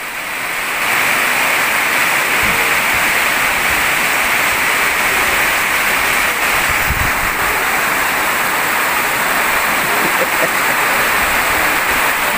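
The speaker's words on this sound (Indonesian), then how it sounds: "Hujan ni tak boleh balik. Budak ni tak dapat balik. Dia lagi dia nangis lah. Nangis kuat ni. Nampak je besar. Padu hujan." Heavy rain pouring outdoors at a riverside fishing spot, a dense, loud, continuous hiss that holds steady throughout, with a few faint thumps beneath.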